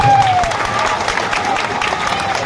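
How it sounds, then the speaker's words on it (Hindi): An audience at a village kirtan gathering claps loudly and continuously, a dense patter of applause close by with a faint whistle-like tone near the start. "जरा जोरदार तालियां बजाओ तो कोई बात बने"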